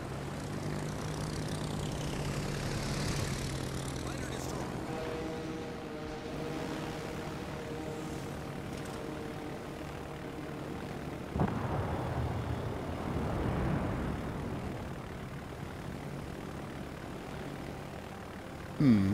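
Propeller fighter plane engines drone steadily through a naval battle video game, a continuous mid-loud hum with a brief swell near the middle and a sharp burst at the end, no talking.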